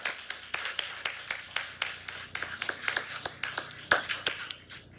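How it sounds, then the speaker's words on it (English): Applause at an outdoor-sounding 2021 law school swearing-in ceremony for new attorneys, a sparse crowd giving distinct, separate hand claps at an uneven rhythm, one sharper clap standing out, fading near the end. "all join me in one final applause for our new attorney"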